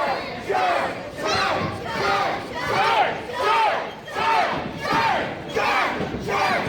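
A wrestling crowd chants in unison, loud rhythmic shouted bursts repeating roughly every second in a steady, driving pattern over a constant background of crowd noise.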